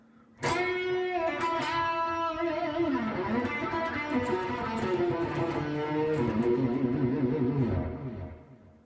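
An aggressive, overdriven electric guitar lead plays a few bent notes with heavy vibrato, loud and up front, fading out at the end.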